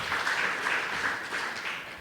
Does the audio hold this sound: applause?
yes